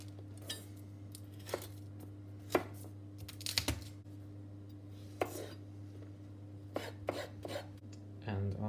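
A knife chops garlic cloves on a board in a home kitchen, giving scattered soft taps and knocks over a steady low hum, fairly quiet and with no talking.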